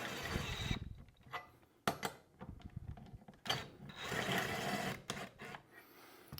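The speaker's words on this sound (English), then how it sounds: "It's a 24 mil nut, so I'll get those tightened down." Wrench tightening 24 mm nuts on a tow mount for a TigerTail tow system on a Can-Am Outlander 1000 XMR ATV; close, uneven bursts of ratcheting and metallic scraping with short pauses between strokes.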